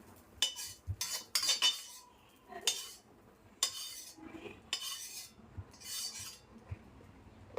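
Utensils clink and scrape against a wok and plate as noodles are moved onto the plate, in a run of sharp, close, irregular metallic clinks with short quiet gaps and no talking.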